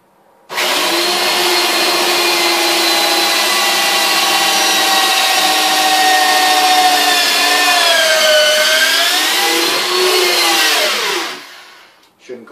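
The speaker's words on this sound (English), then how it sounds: "drilling through the shield with the lamination on it" A power drill bores through a laminated wooden Viking-style round shield, a loud, steady whining drone that holds for about ten seconds, sags in pitch near the end and then cuts off.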